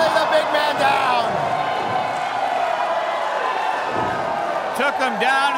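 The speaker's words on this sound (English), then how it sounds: "Took him down and the Toronto crowd going crazy here." A Toronto wrestling crowd roars during a six-man tag match as a big man is taken down, a dense sustained din of cheering and whoops with louder yells at the start and end, under a commentator's talk.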